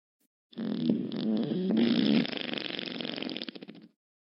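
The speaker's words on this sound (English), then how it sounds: "you try and let it out silently, but it makes a little squeak" A squeaky fart, one sustained close blast of about three seconds with a tonal squeal near the start, fading into a fluttering end, alone with no talk.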